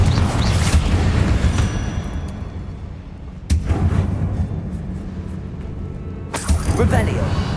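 Confringo, a fiery blasting spell in the Hogwarts Legacy video game, hits as sharp booming bursts at the start, near the middle and toward the end, over a dense rumbling battle bed.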